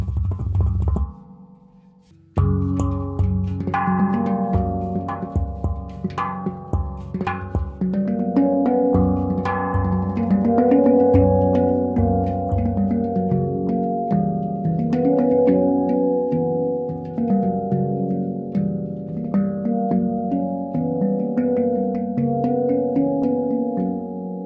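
An all-outie Axiom Apex handpan is played in a flowing melodic pattern, resonant struck tones ringing and overlapping continuously, close and full, after a brief pause near the start.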